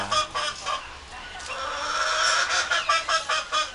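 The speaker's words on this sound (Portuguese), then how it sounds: "Olha o piado." Chicks peep continuously in a busy poultry yard, with hens clucking and a rooster's calls mixed into the steady, fairly close chatter; no one talks.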